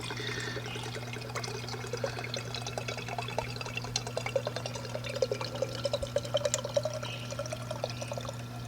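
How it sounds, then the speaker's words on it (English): Coconut water pours from a freshly opened coconut into a glass, a continuous trickle with irregular splashes and glugs over a steady low hum, no one speaking. "just to pour out a single glass"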